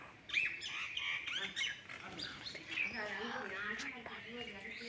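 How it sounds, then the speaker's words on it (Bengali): A squirrel calls from overhead at a brick shrine in Khulna, giving repeated squawking, chirping cries that carry over people talking nearby. "কাঠবিড়াল"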